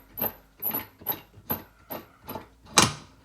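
Repeated short scraping, creaking turns of a threaded metal bowl being unscrewed from a Mazda Solair 400 pressure lantern, six evenly spaced twists close up, ending in one sharper louder clack.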